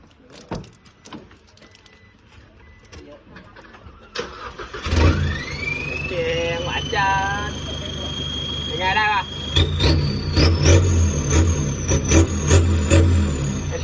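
A car with a stock turbo, a remap, a wastegate canister and a front-exit exhaust starts up, and its engine settles into a steady idle, then revs higher near the end. Clicks and a rising whine come before the start, and a person talks over it.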